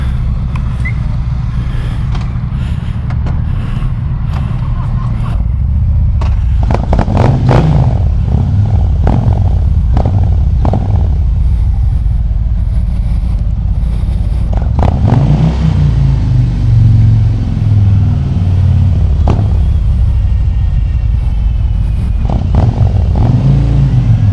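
Stock Harley-Davidson CVO Street Glide ST motorcycle being ridden, its engine rumbling loud and steady throughout with several rises in revs and shifts under way.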